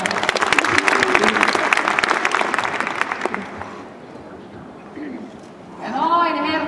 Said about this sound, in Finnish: Aplodit Hertalle.